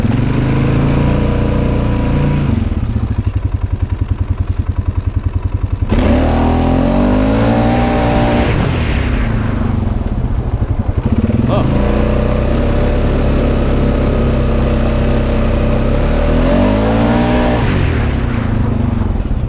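A Polaris Sportsman 570 ATV fitted with a new clutch kit revs loudly and close by, its engine rising and falling in several long pulls over a constant drone, with speech faintly present.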